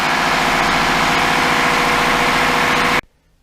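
A loud, steady sailboat engine idles with a constant low chugging rumble, then cuts off abruptly, leaving near silence.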